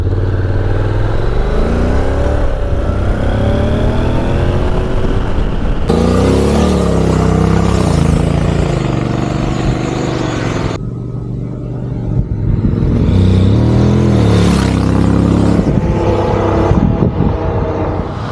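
The 745cc parallel twin engine of a 2023 Honda NC750X motorcycle revs hard and loud, its pitch climbing and falling through repeated throttle blips with a steady mechanical roar.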